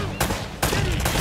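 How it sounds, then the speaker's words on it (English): Gunfire in Uncharted: Drake's Fortune, two loud bursts of rapid shots with a short gap between them, close and dense, with no talk over them. "I think I'm gonna stay back and gun these guys down."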